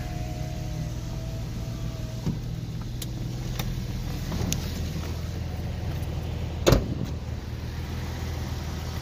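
A 1998 Porsche Boxster with 31,000 original miles closes its convertible top. A steady electric motor hum runs for several seconds, with a few faint clicks and one sharp latching thunk near the end. No one speaks.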